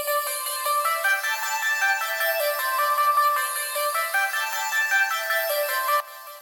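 Stabby little Vox-style synth notes repeat in a bouncy melodic pattern with a delay trailing each hit, steady and fairly loud on their own before stopping abruptly near the end.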